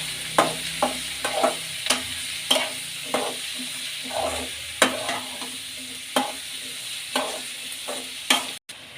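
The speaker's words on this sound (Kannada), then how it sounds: "ಈರುಳ್ಳಿ ಈರುಳ್ಳಿನ ಎಣ್ಣೆಯಲ್ಲಿ ಚೆನ್ನಾಗಿ ಫ್ರೈ ಆಗಲಿ" Onions fry in oil with curry leaves for a spicy chitranna breakfast rice, a quiet bed of sizzle broken by regular, sharp scraping strokes of a spatula against the pan, close by and without speech.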